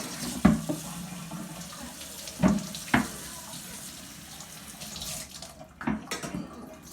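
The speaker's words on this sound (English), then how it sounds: "Just wash it. Make sure it's nice and washed. Also the cutting board." Tap water runs into a kitchen sink while a cutting board is washed, a steady faint splashing broken by a few sharp knocks and clatters of the board against the basin.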